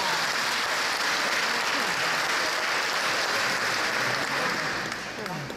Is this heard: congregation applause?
yes